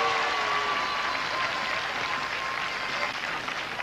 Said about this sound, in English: Give them applause, ladies and gentlemen.